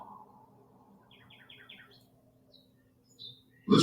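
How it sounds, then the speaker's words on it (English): Short bird chirps repeat in quick bursts over a quiet low hum, followed by a couple of higher calls and a sudden sharp noise at the end. "the singing of birds"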